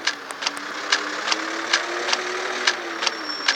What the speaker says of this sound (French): je sais pas si vous entendez le moteur